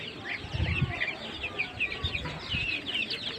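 Young native chickens around 25 days old, kept with ducklings on a small farm, cluck and peep steadily as a busy flock, with overlapping high chirps and soft calls close by and no talking.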